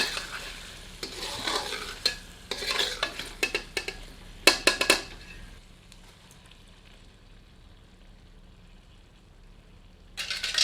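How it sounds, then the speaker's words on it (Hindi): Chicken mixed with yogurt is stir-fried over high heat, with bursts of sizzling and spatula scraping against the pan, then a quieter stretch of low simmering before another sharp stir at the end. "दही को मुर्ग में मिलाकर तीव्र आंच पर 5 मिनट भूनते हैं ताकि दही में से घी पृथक हो जाए।"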